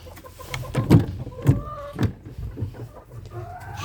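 Hens clucking inside a small backyard coop, several short close clucks in an uneven rhythm, with quieter murmuring calls between them.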